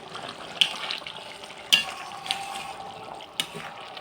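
Chicken curry being stirred in a pot right after lemon juice is added, a soft steady simmer and sizzle with a few sharp scrapes of the spoon against the pan.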